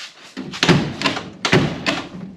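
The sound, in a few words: classic car driver's side door being closed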